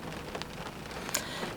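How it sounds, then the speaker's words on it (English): Rain falls steadily on a car roof, heard from inside the vehicle as a soft, even patter with occasional sharper drops. It is faint and constant, with no voices. "Yet again, sitting in my car with it raining."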